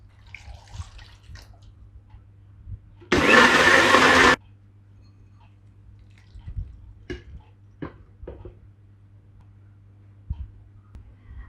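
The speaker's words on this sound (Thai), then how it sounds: "เราก็ไปปั่นน้ำขิงบ้างค่ะ" An electric blender whirs through a batch of peeled, chopped ginger for ginger juice in a home kitchen, running loud and steady for about a second before stopping, with quiet kitchen clatter around it.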